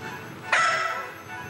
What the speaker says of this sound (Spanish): ¿Tenés un perro acá?